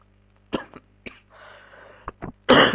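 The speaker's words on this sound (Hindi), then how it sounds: "खांसी आ रहा" Several short, sharp coughing bursts from a man recording a Go programming tutorial, close to the microphone, spaced irregularly with brief pauses and a louder final burst, and no talking.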